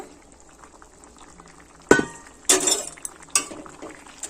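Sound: curry boiling in pan with fried fish added

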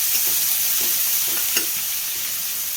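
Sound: sliced onions and curry leaves frying

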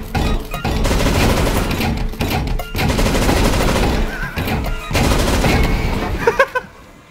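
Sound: turret firing in video game CS GO

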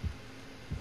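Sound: heartbeat sound in video game Dead by Daylight

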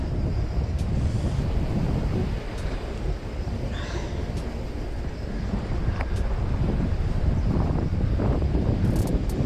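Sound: wind blowing at a seaside fishing spot

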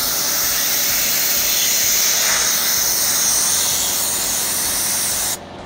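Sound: spray bottle spraying on car paint

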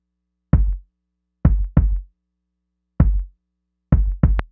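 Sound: two kick drum samples played together, out of phase

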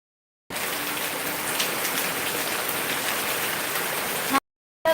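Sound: heavy rain

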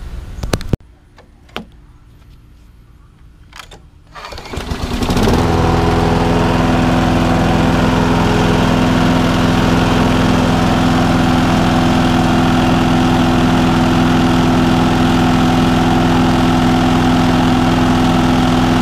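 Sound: Craftsman 21 inch lawn mower engine starting and running

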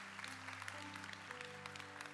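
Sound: church congregation applause for summer interns

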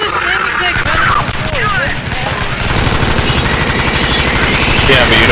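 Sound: gunfire from a gun in the video game Alien Swarm

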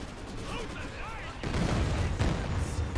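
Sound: Katyusha rocket barrage impacting in a strategy video game

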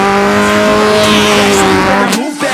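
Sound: Chevrolet Corsa race car engine running, heard inside

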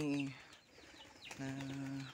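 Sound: pigeons competing with chickens for food

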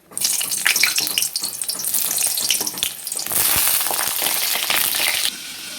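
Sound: pointed gourds frying in hot oil

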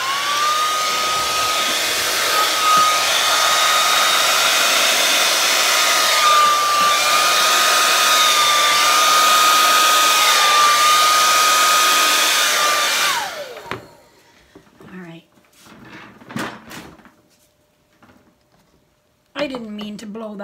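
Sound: hair dryer blowing on acrylic paint pour

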